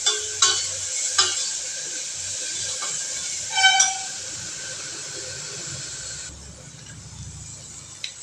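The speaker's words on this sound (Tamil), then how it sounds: "இந்த இஞ்சி பூண்டு எல்லாமே நல்லா வதங்கிருச்சு." Ginger and garlic sautéing in a pan, a steady broad sizzle with a few sharp clinks and scrapes early on, then quieter frying toward the end.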